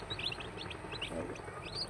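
High, thin chirping from broiler chicks peeping repeatedly over a steady low hum of an egg incubator, fairly close and continuous.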